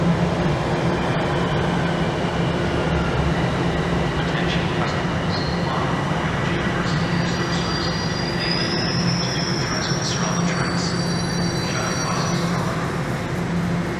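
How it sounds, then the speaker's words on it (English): Toronto TTC subway train pulling into a station, loud continuous rumble with squealing wheels and rail clatter filling the whole stretch, close by. "Let's see if this train stops and picks people up."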